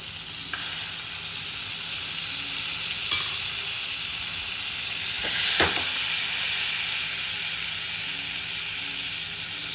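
Butter heats and fries in a wok, a steady close sizzle with a few sharp clinks and scraping touches, no one speaking.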